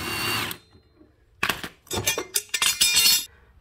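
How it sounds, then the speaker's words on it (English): Lawnmower blade being removed by hand, with short metallic clinks and brief tool whirs in uneven bursts after a moment of quiet, close and fairly loud, no talking. "what I'll do now is take the blade off and show you why it's doing that"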